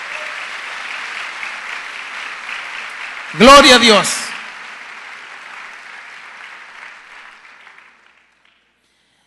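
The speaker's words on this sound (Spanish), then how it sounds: "¿Cuánto le dan una ofrenda de palmas al Dios Todopoderoso?" A church congregation breaks into a short, loud burst of clapping lasting about a second, set against a preacher's voice that trails off afterward.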